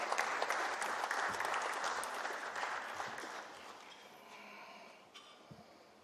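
An audience applauds a speaker invited to give the opening address at a global oral health keynote event. The clapping starts as a dense, loud wash, then thins and fades toward the end with a few scattered claps.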